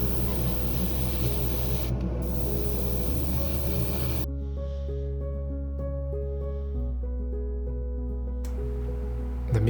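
Spray priming the interior of a Ferrari SF90 Stradale scale model: a steady, close hiss of an airbrush or spray can runs for several seconds with brief breaks, alongside a humming motor-like drone.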